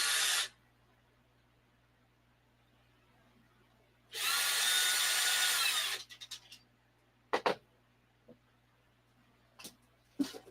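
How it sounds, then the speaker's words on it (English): A power drill whirs briefly at the start, then runs again for about two seconds while drilling holes, followed by scattered clicks and handling noises in a quiet room. "I got to get the drill back"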